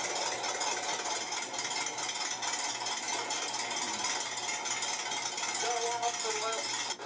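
A trike engine idles with its idle raised a little, giving a steady, rough mechanical chatter that stays loud and even, with brief voices heard near the end.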